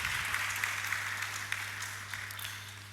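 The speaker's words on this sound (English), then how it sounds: "We can give a round of applause." An audience at a university student union inauguration ceremony gives a round of applause, soft, distant-sounding clapping from a crowd spread evenly over a few seconds, with a steady low hum beneath it.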